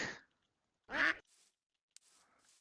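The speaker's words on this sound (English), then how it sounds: "Hello, duck." A Minecraft duck in an FTB modpack gives a few isolated quacks, one at the start and a louder one about a second later, followed by softer short sounds against near silence.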